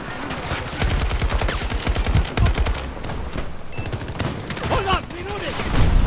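Rapid automatic gunfire rattles in the shooter game Battlefield 2042, with dense bursts of shots close and loud, over continuous game noise and someone talking at times.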